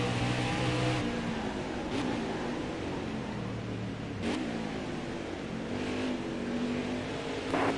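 A NASCAR Cup race car roars around the Sonoma road course in NASCAR Heat 4. Its engine holds a loud, continuous drone that rises and dips with shifts and revs, with no voices.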